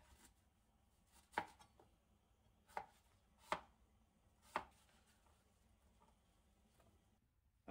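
A knife cutting through an apple, four or five sharp, separate cutting clicks spaced a second or so apart, close and faint against a quiet kitchen background.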